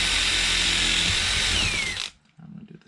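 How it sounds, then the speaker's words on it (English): Power drill boring a pilot hole at a slight angle into a wooden chair leg, a loud steady whir for about two seconds with a falling pitch near the end, then stopping abruptly into near silence with faint handling noise. "Pilot hole and pre-drill so the wood won't split"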